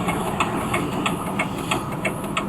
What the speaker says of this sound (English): This is a normal tractor ride in Bucks County.